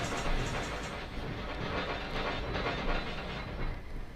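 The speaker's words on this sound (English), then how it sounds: "So I'm hitting the brakes here." A steady rail rumble with rhythmic clacking and a hissing wash, a Union Pacific train in the Run8 train simulator game slowing under sustained brakes near Bakersfield, continuous and fairly loud throughout.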